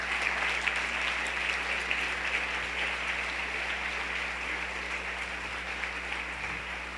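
Sustained applause from a church congregation during a Sunday service, a dense, steady wash of clapping that fills the whole stretch at an even level with no speech over it.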